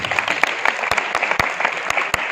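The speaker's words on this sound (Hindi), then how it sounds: "एक बार तालियों से सुनिए।" Applause for NSS students at a school NSS Day and parents' meeting, a dense crowd clapping steadily with sharp individual claps standing out.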